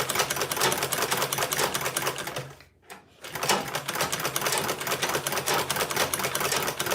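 Sewing machine stitching Ankara fabric for a tote bag, a fast, steady, loud mechanical rattle running continuously with one brief pause midway before resuming.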